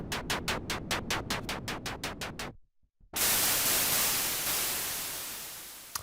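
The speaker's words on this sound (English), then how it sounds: "Anyway, you have a noise generator here." Roland Zenology software synthesizer's noise generator plays a quick series of rhythmic hissing pulses, pauses briefly, then bursts into a loud, sustained wash of bright static that slowly fades.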